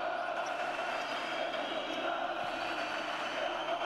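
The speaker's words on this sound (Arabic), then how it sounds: "صوت الجماهير ما امتعه في المدرجات" Steady roar of an arena crowd filling the stands during an Al Ahly versus Zamalek basketball semifinal, a dense continuous wash of voices held at an even level for the whole stretch.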